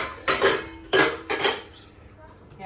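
Steel dishes and pots clank together in a home kitchen as they are handled for washing, three distinct bursts of metallic clatter in quick succession, near and fairly loud, tapering into quiet.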